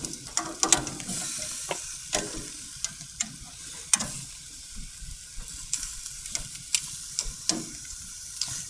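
Squash pieces sizzle steadily on a hot grill, with clicking metal tongs tossing them at irregular intervals, close and moderately loud.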